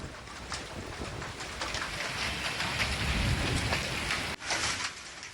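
Unseasonal rain with hail pours steadily in the Saputara hills of Dang, Gujarat, a dense, continuous hiss of drops hammering surfaces nearby, with a brief drop in level near the end before the downpour resumes.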